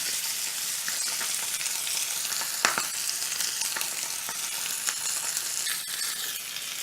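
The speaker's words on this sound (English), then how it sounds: "you just want to let it sit and get a nice sear on that skin" A chicken breast sears skin-side down in a hot pan, giving a continuous even sizzle with scattered crackles and a sharper pop partway through.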